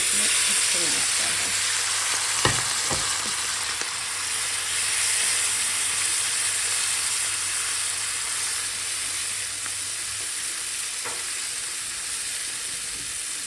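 Previously boiled meat sautéing in a pan for tantuni gives a loud, steady sizzling hiss that runs throughout, broken by a couple of sharp utensil knocks against the pan.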